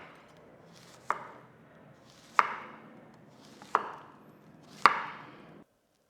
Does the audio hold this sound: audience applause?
no